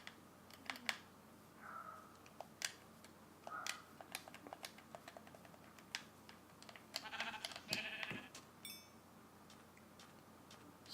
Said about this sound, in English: Some sheep and cows and a pig over here. A sheep, 2 cows, and a pig.